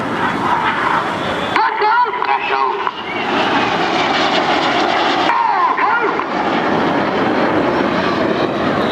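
Loud, roaring jet engines dominate at an air festival, swelling and shifting as a synchro pair of planes pass close by, crossing in front, with a commentator speaking over the noise.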